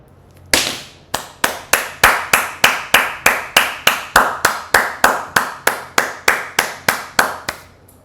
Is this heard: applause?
yes